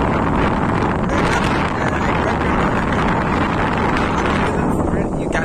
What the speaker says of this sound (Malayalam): യൂക്കാലിപ്റ്റസ് മരങ്ങളാണ് കാറ്റടിച്ചടിച്ചടിച്ച്